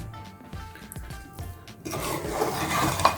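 A spoon stirs halwa in a pan, scraping and knocking against the metal in quick repeated strokes, then a louder, denser scraping and sizzle as the thick mixture is worked near and alone.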